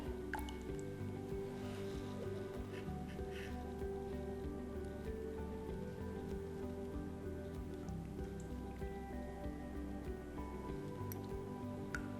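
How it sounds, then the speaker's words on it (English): Thick laksa bisque is poured into a bowl, with soft, wet dripping and squishy splatters over a low steady hum. "Now we will pour our Laksa Bisque inside."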